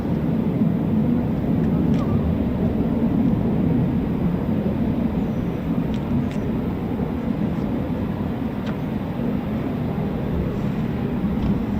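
Continuous low roar of Eurofighter Typhoon FGR4 jet engines at RAF Coningsby as one spools up, loud and steady, a broad rumble with no clear rise and no talk.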